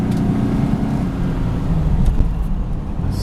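A 1991 vehicle at full throttle climbing a steep hill at about 45, a loud, steady engine roar with road and wind noise filling the cabin, unbroken throughout.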